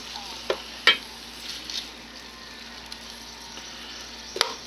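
Onions cooking down in a pan with a low, steady sizzle, punctuated by a few brief sharp clicks and scrapes of the utensil, close by with no talk.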